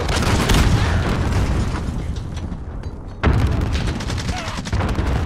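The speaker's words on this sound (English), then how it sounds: "Enemy cruise missile!" Cruise missile explosion in Call of Duty Modern Warfare, a heavy booming rumble with crackling debris that fades, then a second sharp blast hits partway through, with gunfire and faint game voices mixed in.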